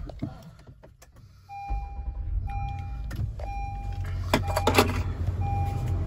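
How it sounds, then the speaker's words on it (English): A 2021 Honda Odyssey minivan is started: a low engine rumble rises and settles into a steady idle, with repeated electronic dashboard chimes sounding over it. "I'm gonna start the car up so you can see the odometer."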